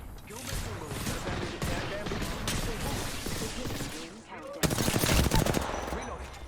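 Gunfire in the Apex Legends battle royale game, rapid automatic bursts crackling through a busy in-game soundscape, with a louder, sharper volley near the end.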